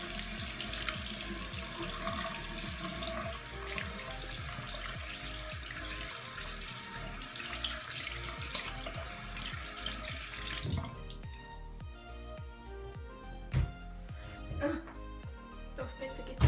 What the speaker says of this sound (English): then we're going to wash our hands